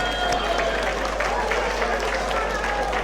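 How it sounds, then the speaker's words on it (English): Crowd applause for boxers after a heavyweight bout, a steady loud wash of clapping and crowd noise filling the arena, with a constant low hum underneath and voices blended in. "Massive round of applause for both warriors in the ring, everybody!"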